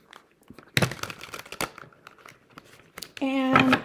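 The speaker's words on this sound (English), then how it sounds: "let me give these a good ruffle shuffle" Quick papery crinkles and snaps, then a rapid fluttering burst as a deck of playing cards is riffle shuffled, with a voice speaking in between.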